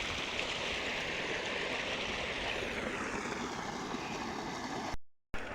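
Irrigation water runs steadily through a field, a constant wash of rushing noise held at one level, then it cuts off to silence near the end.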